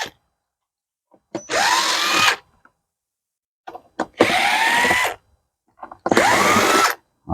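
A power drill runs in three bursts of roughly a second each, with short gaps between them, as it backs four screws out of the cover of a Predator 9500 inverter generator. The drill sounds close and loud, and no one speaks.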